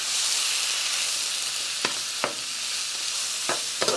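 Meat frying in a pan while fat renders gives off a steady, fairly loud sizzle, broken by a few sharp scrapes of stirring spaced about a second apart.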